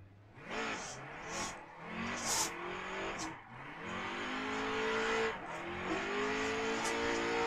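A BMW E36 from a car pack in a drifting video game revs hard, its engine rising and falling in repeated sweeps with bursts of tire squeal, loud and close throughout.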